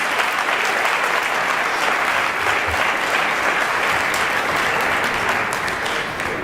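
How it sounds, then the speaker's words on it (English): An audience at a Cleveland schools gift announcement gives two teams a sustained round of applause, dense and loud clapping holding steady for the whole stretch with no talk over it. "Let's give these two teams one more round of applause"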